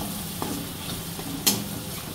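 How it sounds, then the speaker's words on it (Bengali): Spice paste of ground coriander mixed with water fries in a kadai for a prawn curry, a soft continuous sizzle broken by occasional spoon scrapes and one sharper clack near the end. "এবার আমি ভালো করে মশলাটাকে কষিয়ে নেব"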